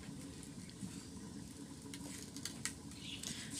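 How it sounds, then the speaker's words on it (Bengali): Ground onion paste fries in hot oil for a fish curry made with kochur mukhi, giving a steady, fairly quiet sizzle with light crackles and stirring that carry on without a break. Nobody speaks. "এখন এই তেলের মধ্যেই দিয়ে দেবো আর একটু তেল। এর মধ্যে দিয়ে দেবো বেটে রাখা সেই পেঁয়াজ"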